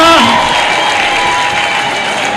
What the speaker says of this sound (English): A big round of applause for Kenya.